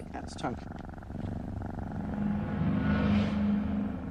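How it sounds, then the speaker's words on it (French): Low, rumbling cat purr building steadily and close up, with a brief faint high noise at the start. "Le ronronnement nous en apprend énormément sur le chat."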